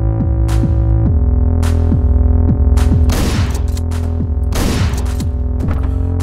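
Shotgun blasts in the top-down action game Hotline Miami, several loud booming shots at irregular intervals over a pulsing synth music track, each with a short bright burst.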